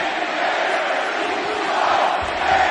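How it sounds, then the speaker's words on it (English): Wrestling arena crowd at Desert Diamond Arena in Glendale, near Phoenix, roaring and cheering as a steady dense wash of voices throughout, swelling slightly toward the end. "Great crowd here in Glendale, just outside of Phoenix Desert Diamond Arena."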